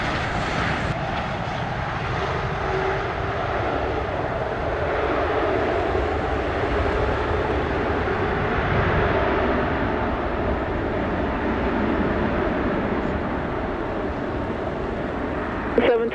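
A jet airliner at Sangster International Airport in Montego Bay, Jamaica, gives a steady, loud broadband roar that holds for the whole stretch with little change.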